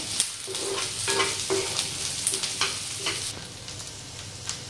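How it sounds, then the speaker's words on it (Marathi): Onion frying in a little oil for a spicy brinjal bharit, with steady close sizzling and repeated scraping stirs of a spatula, no voices. "कांदा भाजताना नेहमी थोडंसं तेल टाकत जा, म्हणजे कांदा लवकर भाजला जातो।"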